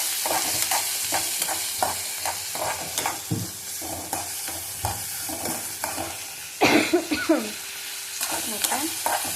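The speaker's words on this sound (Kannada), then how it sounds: "ಮತ್ತು ಹೀಗೆ ಸ್ವಲ್ಪ ಲೋ ಫ್ಲೇಮಲ್ಲಿ ಇಟ್ಕೊಂಡು ಮಿಕ್ಸ್ ಮಾಡ್ಕೊತಾ ಹೋಗಿ" Green chilli mixture stirred and frying in a pan over a low flame, with repeated scraping strokes of the spoon over a steady soft sizzle, close by and without speech.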